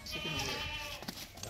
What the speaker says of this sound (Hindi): ये देखो कितनी खूबसूरत है बकरा।